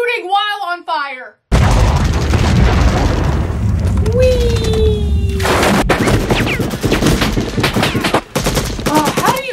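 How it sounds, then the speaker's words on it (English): Heavy automatic gunfire from the 1987 film Predator, with sustained rapid bursts, booms and explosions filling the scene, while people talk and react over it. "He is shooting while on fire!"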